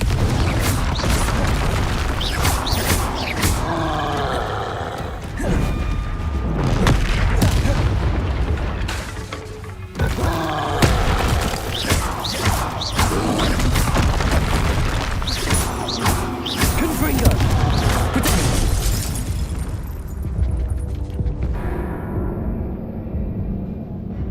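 Loud, dense booms and blasts fill the whole stretch as the Confringo spell goes off in Hogwarts Legacy combat, with continuous game effects and rumble and a brief drop near the end.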